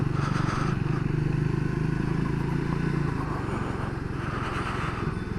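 A Triumph Speed 400 motorcycle engine drones steadily as the bike is ridden through a quiet town, a continuous low rumble with a slight dip in pitch midway and no talking.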